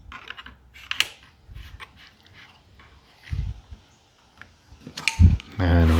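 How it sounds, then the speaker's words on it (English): A fret slotting jig on a guitar neck being loosened, slid along to the next fret and locked down, heard as close clicks, scrapes and small mechanical knocks ending in a firmer clunk. "Okay, then we loosen that up, slide it to the next fret, lock it in place."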